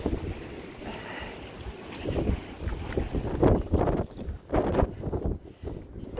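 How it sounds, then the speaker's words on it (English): Strong wind gusting outdoors on a field where a Malinois puppy plays tug with a kite, buffeting the microphone in loud, uneven rushes that swell and drop throughout. "Oh, it's really windy."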